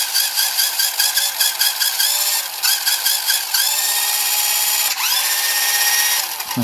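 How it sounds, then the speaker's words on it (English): A small electric motor and gearbox of a Flytec 6029 1/16-scale RC toy car whirring steadily at high pitch, with several short speed changes and brief pauses, close and loud. "The gearbox makes a quite nice sound for a motor."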